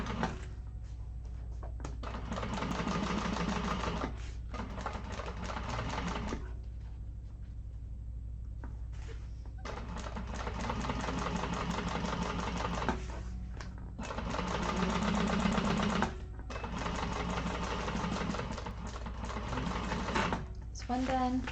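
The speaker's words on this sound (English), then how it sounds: "we are going to top stitch with that seam pointing down through the lining panel" A sewing machine top stitches a bag seam through the lining panel, running in several long bursts of steady rapid stitching separated by short pauses, close and clear, with occasional talk in between.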